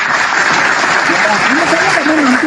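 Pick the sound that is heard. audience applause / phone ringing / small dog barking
audience applause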